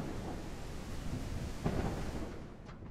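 Rain falls in the video game No One Survived as an unbroken, loud, rushing hiss with a slight swell partway through, alone with no speech.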